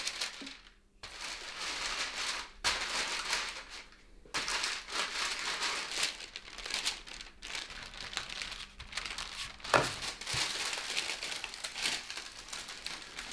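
Sheets of baking paper crinkle and rustle up close while shortcrust pastry dough is rolled between them and laid into a tart tin, coming in irregular bursts separated by brief quiet gaps.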